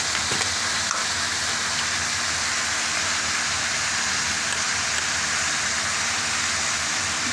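Food fries in a pan, giving a steady, even, hissing sizzle that carries on without a break and with no talking.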